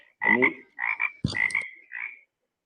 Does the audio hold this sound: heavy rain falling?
no